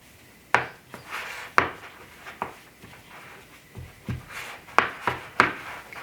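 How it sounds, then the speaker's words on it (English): A spatula mashes flour into a paste in a bowl, making repeated sharp knocks and scraping rubs in an uneven rhythm, close by and fairly quiet. "And then just mash these together. You want to make a paste. Switch to a spatula."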